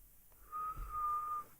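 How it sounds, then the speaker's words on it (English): A single sustained whistle tone, clear and moderately loud, holding steady for about a second against a quiet background. "I wanna add like a whistle"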